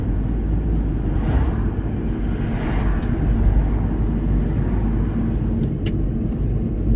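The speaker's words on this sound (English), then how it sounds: "Why is that car going so slow? Oh, it's making noises." A car crawls slowly through busy daytime street traffic, its low rumble and engine noise running steadily throughout amid the surrounding road din.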